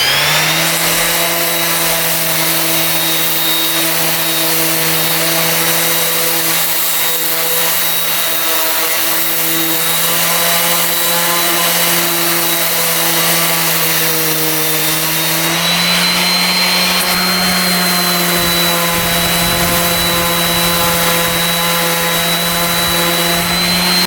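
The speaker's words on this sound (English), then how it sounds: "I'm gonna run it down with a sander" A power sander buzzing over dried wood filler on damaged wood, a loud continuous whine with a steady drone that shifts pitch slightly partway through, running alone without talk.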